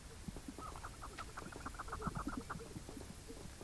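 Partridges cluck in a rapid, busy flurry of short calls inside the video game Hogwarts Legacy, quiet and continuous over a soft background hiss, with no voices.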